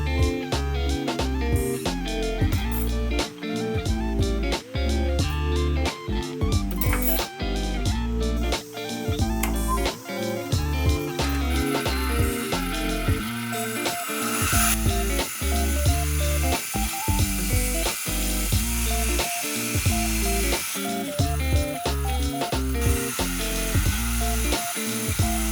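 Scrap wood being cut into small strips 5 cm wide and 2 cm high, a loud, dense run of rapid buzzing and rasping cuts with frequent short stops and restarts, continuing steadily throughout with no talking.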